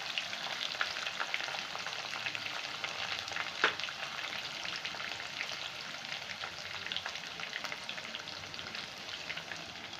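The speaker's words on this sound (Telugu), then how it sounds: "వీటిని కూడా బాగా ఫ్రై చేసుకోండి." Green chillies frying in oil in a pan for a yogurt curry, a steady soft sizzle with faint stirring taps and one sharper clink, close and alone without talk.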